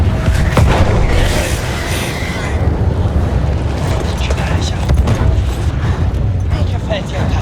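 Artillery firing in the World War I game Battlefield 1, a heavy booming roar with rumbling blasts and low mechanical clatter, loud and sustained, with voices under it.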